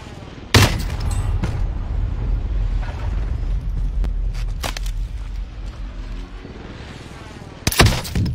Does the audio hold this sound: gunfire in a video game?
yes